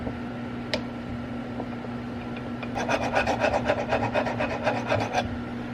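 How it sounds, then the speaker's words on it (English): Aluminium oxide is scraped by hand off a metal part for a DIY Stirling cycle cooler: about a dozen quick, rhythmic rasping strokes, fairly quiet, over a steady background hum with a single click earlier. "I might be able to get away with just scraping off the oxide for now"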